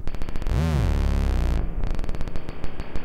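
Deep notes from an Erica Synths Matrix Mixer synthesizer swell and bend in pitch, ringing out with a long reverberant tail before a run of brighter, shorter tones follows.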